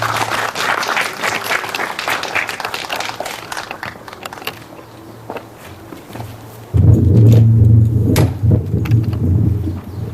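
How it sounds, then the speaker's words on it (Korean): Audience applause greets a criticism-category award winner at a literary award ceremony. Scattered clapping and shuffling footsteps fill the first half, then a fuller, louder burst of applause rises and continues to the end. "박수로 맞이해 주시기 바랍니다"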